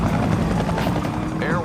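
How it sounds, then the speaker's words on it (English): A helicopter pursues a car in the film Gone in 60 Seconds, its rotor chop loud and close and continuous, with a voice talking over it. "that's when we thought we'd bring the helicopter in to pursue him"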